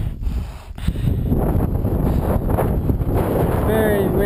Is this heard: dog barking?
no